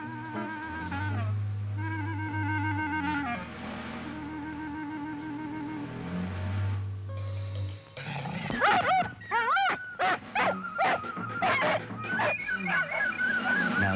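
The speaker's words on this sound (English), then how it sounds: "Both these dogs attack snakes without fear" Dogs attacking a snake snarl, growl and yelp loudly and close, with intense bursts of barking and whining over a drawn-out low growl, rough and agitated throughout.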